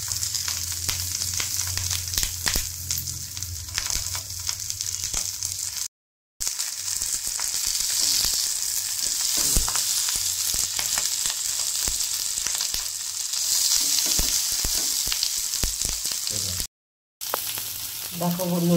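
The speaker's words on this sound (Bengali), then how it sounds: "এই তেলের মধ্যে এখন আমি এই কলা পাতাগুলোকে ছেড়ে দেবো।" Banana leaf parcels frying slowly in oil over low heat make a continuous close sizzle and crackle. Two brief silent breaks interrupt the steady hiss, and occasional louder spits rise above it.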